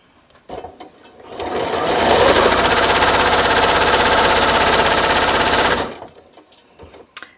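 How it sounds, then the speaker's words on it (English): A sewing machine runs in one steady continuous burst of stitching as quilt squares are sewn along a drawn line for a churn dash charity quilt block, starting after a short pause and stopping cleanly, with light handling sounds around it. "I'm going to line my other 2 squares up and sew on both sides of this drawn line as well."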